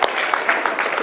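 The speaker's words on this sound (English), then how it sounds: "another round of applause, guys" Audience applause, a dense, steady patter of many hands clapping at moderate loudness, continuing evenly throughout.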